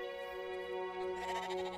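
A sheep bleats in the video game Brothers: A Tale of Two Sons, one sustained, wavering nasal call held for nearly two seconds, close and clear with nothing else over it.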